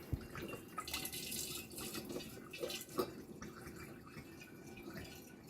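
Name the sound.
wine pouring into demijohn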